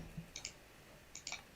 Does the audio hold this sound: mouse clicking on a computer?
yes